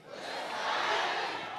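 A large community-meeting crowd in a packed hall shouts together in one sustained, swelling roar, loud and close with no single voice standing out.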